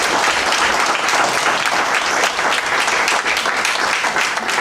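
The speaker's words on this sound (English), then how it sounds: "Let's give another round of applause." Loud, dense applause from a Toastmasters audience after a speech, sustained and even throughout with no pauses.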